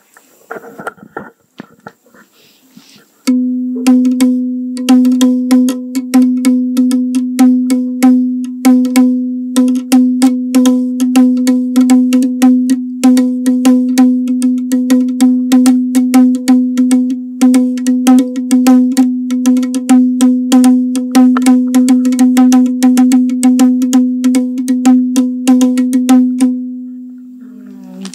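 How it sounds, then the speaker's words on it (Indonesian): A sentokok, a metallic gong-like Dayak traditional percussion instrument, rings with a steady pitch, struck rapidly and repeatedly in a continuous rhythmic pattern for about twenty seconds, loud and close. "Itu tadi bunyi dari sentokok."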